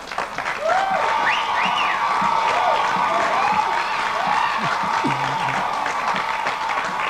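A studio audience on a TV show cheers and applauds, a dense, continuous roar of clapping and whoops that sets in within the first second and holds steady throughout, with a few high whistle-like tones rising and falling above it.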